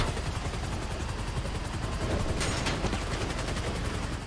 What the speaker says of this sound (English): Get that helicopter out of my sight.